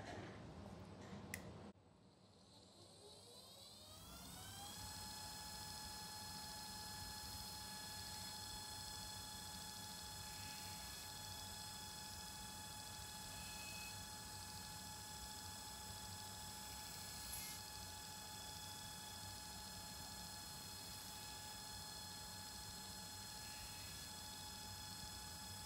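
A knife edge is ground on a 600 grit grinder: after a brief clatter the machine spins up, then gives a steady, continuous whine and hiss with tonal hum, held at an even level.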